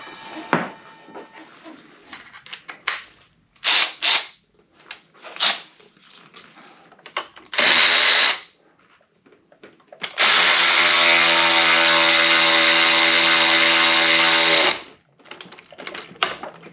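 A power tool spins the front wheel bolt of a KOMOTO M1100 motorcycle, with a short burst and then a longer sustained whir of several seconds, close by, amid scattered clicks and handling noises.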